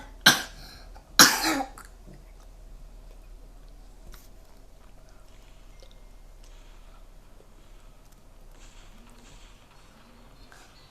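Two sharp coughs close together near the start, loud and close, followed by quiet room background with faint scattered noises; no voices.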